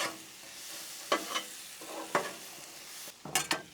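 Shrimp, sausage and garlic sizzle steadily on a Blackstone griddle outdoors, with a constant frying hiss broken by several sharp scrapes and clanks of a spatula stirring the food.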